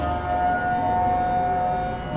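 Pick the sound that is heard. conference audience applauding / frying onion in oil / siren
siren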